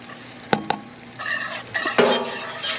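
Melted butter is swirled in a metal cake pan for a lemon upside-down cake, with two sharp clinks of metal early on, then soft scraping and sizzling swishes that build toward the end.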